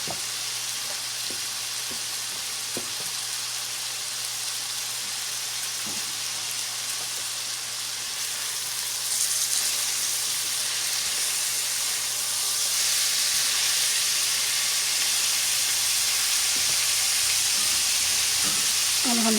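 Cabbage stir-fries in a hot pan for chicken fried rice, a steady close sizzle and steamy hiss that grows louder midway, with faint stirring scrapes and a low background hum throughout.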